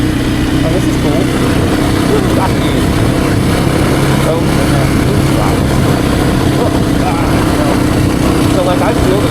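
A Kawasaki KLX230R dirt bike engine drones loud and steady close up as the rider shifts into third gear on an easy dirt road, with wind buffeting throughout.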